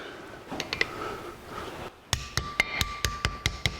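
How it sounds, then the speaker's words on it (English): Seal being tapped into a 1982 Jeep CJ7 brake rotor with a hammer, about a dozen sharp, evenly spaced metallic taps close up, the last ones coming quickly in a steady rhythm. "We need to tap the seal into place."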